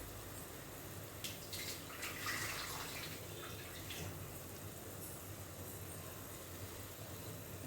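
Water poured into a hot cooking pot for bagara rice, a steady low splashing and rushing flow running nearly unbroken, moderately close, with no voices over it.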